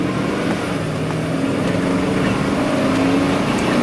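A U-Haul 10-foot rental box truck accelerates, its engine rising in a steady, loud drone with road rumble heard from inside the cab, and no talking.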